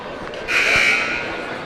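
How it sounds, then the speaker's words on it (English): A short warning buzzer sounds in a high school varsity basketball gym, a single harsh tone lasting about half a second over crowd murmur and arena noise. "And the first warning buzzer goes off."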